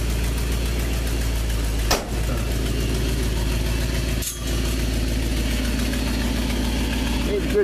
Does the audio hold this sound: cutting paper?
no